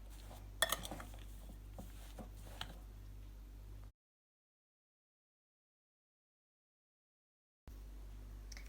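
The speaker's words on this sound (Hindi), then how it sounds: "अब सारे स्पाइसेस डालने के बाद हम इन पोटैटोज़ को मिक्स कर लेंगे" Spiced potato filling being mixed in a bowl: faint clinks and scrapes of a utensil against the bowl over a low steady hum, then a stretch of silence before the hum returns.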